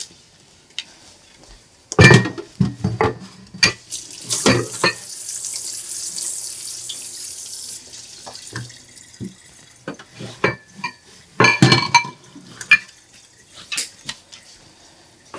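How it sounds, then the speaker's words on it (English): A cutting board is rinsed under a running kitchen sink tap: a rush of flowing water with splashes and knocks of the board against the sink, alternating with quieter pauses and intermittent clatter. "I hate a dirty board, so let me get this cleaned up"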